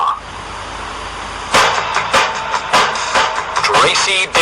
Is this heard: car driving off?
yes